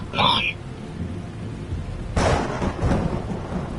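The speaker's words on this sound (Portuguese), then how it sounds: "Meu Deus, um trovão." A burst of thunder rolls in, a broad rumbling crack that swells and lingers over rain noise, following a brief high squeal at the start.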